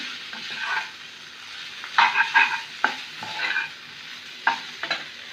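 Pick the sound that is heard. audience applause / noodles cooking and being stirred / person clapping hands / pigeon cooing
noodles cooking and being stirred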